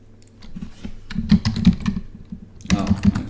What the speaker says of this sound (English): Oh, I'm typing Fred Liddy.